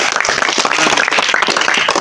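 Crowd of children clapping at a street monkey show, a dense, steady patter of many hands close by for the whole two seconds, with faint voices mixed in.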